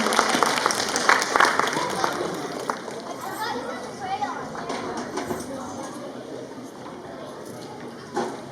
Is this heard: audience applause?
yes